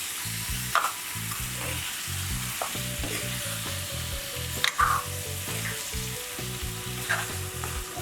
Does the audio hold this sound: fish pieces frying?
yes